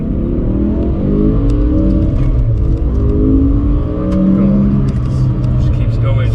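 A BMW M5 with its V10 engine revs hard and loud up to high rpm in second gear, a sustained rising, screaming howl with rich harmonics, heard close up.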